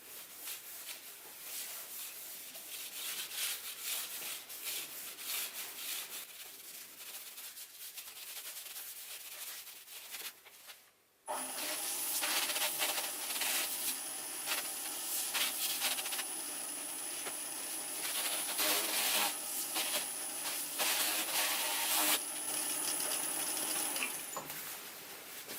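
Hampshire Sheen wax worked onto a holey wooden bowl spinning on a lathe: a quiet hum gives way to a louder, steady rubbing hiss with a faint high whine, continuous and close.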